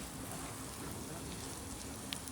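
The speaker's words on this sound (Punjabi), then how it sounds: "ਕਣੀਆਂ ਆ ਰਹੀਆਂ ਨੇ ਬਰੀਕ ਬਰੀਕ" Fine, light rain falls steadily at night, a soft continuous hiss of small raindrops close by with no other sounds standing out.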